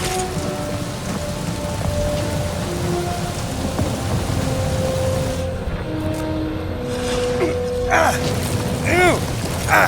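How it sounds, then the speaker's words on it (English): Steady heavy rain and rolling thunder in a stormy scene from the video game Guardians of the Galaxy, a constant downpour with rumbling booms and brief voices calling out near the end. "That is some really crazy lightning out there"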